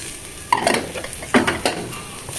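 White onion dropped into a small amount of hot oil in a pan, a couple of bursts of sizzling and stirring clatter over a soft steady frying hiss, close by with no talking.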